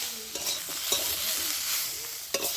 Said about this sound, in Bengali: নুন আর হলুদটা দিয়েও ভালো করে কষিয়ে নিতে হবে।